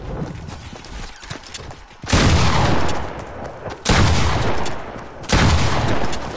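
Three heavy shotgun blasts from a newly acquired weapon in a video game, loud and close with long booming decays, fired every one to two seconds over a quieter background.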